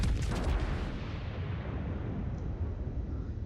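The German battleship Friedrich fires a heavy salvo in the naval game World of Warships, a loud booming blast that rolls off into a long rumbling tail, with no talking.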